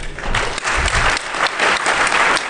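A crowd at the DEF CON hacking conference claps and applauds loudly, a thick, close wash of many hands with slight swells in intensity throughout.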